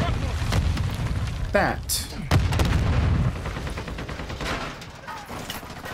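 In Modern Warfare 2 gameplay, a flash grenade blast and bursts of gunfire ring out amid a chaotic firefight, with sharp booms and rapid shots layered under a player's excited talk.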